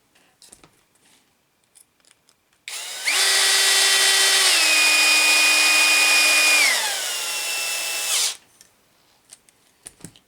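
A power drill drives a screw into a ball joint during front-axle assembly of a Team Associated/JQ-style black e-car RC buggy. One continuous loud whine runs for about six seconds, drops in pitch partway through, then stops, with quiet handling noises before and after.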